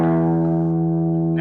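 Electric guitar through a Fender Blues Junior IV amp with reverb set at 3, a single sustained chord ringing out alone and decaying slowly over a steady amp hum.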